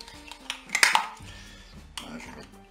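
Tuna pasta being stirred in a Cookeo multicooker pot, with a few loud utensil scrapes and clinks in a short burst over low background noise.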